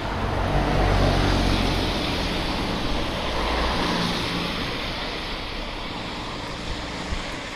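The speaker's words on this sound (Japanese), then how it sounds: "もろ雨受けてます。" Rain pours steadily on someone walking outdoors in Tagawa with no shelter overhead, a dense, even hiss loud near the start and easing slightly toward the end.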